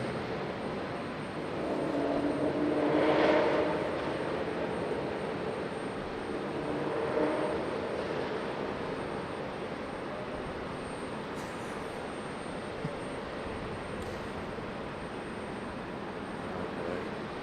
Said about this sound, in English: Pearl here in A321 Neo. So it's got those Pratt and Whitneys